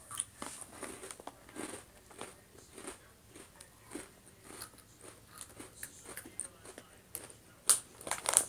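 Close crunching bites and chewing on small bite-size Bud's Best mint cookies, eaten dry, a run of crisp crackles repeating unevenly with a few louder snaps near the end.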